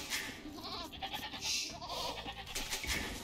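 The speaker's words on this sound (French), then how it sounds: "On va chercher nos deux dernières chèvres." Goats bleat in a strategy video game, a dense overlapping chorus of wavering cries over steady game background sound.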